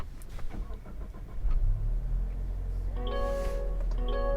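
A 2023 Mazda CX-50 GT with a 2.5L turbo engine starting up, faint clicks giving way to the engine catching and settling into a steady, quiet idle heard from inside the cabin.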